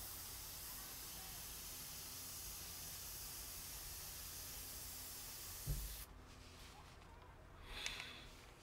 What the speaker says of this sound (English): That's about all you'll get out of this airbrush.